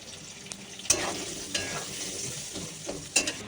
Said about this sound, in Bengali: আলুটা ভেজে নেব তারপরে মশলাটা কষবো